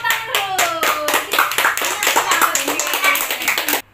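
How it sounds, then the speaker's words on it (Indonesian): A small group claps hands together briefly at the end of a children's storytelling session, a quick rhythmic run of claps, close and fairly loud, lasting about four seconds before stopping abruptly. "Tepuk tangan dulu."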